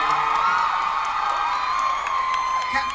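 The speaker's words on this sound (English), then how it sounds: "I think they're screaming" A Comic-Con 2011 panel audience for Supernatural fills a hall with continuous loud screaming and cheering, a dense high-pitched crowd roar with scattered whoops that holds steady throughout.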